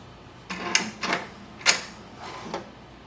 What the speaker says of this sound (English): Printer just printed the alignment page.